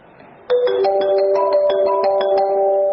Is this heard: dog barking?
no